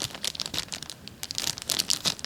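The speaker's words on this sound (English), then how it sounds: "This plastic mini Ziploc bag." A small plastic mini Ziploc bag holding board game pieces crinkles and rustles up close in quick, irregular bursts of crackling.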